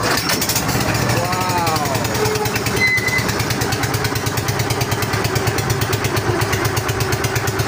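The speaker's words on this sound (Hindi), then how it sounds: "आप देख सकते हैं इंजन चलाने जा रहे हैं" A steamer boat engine on the Yamuna river starts, a loud, fast rhythmic chugging and thumping that holds steady, with someone talking over it early on.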